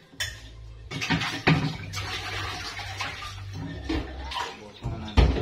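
Water splashes and runs in irregular bursts while a mineral water pot is rinsed and scrubbed, with occasional knocks of the pot, close by, and brief low speech mixed in.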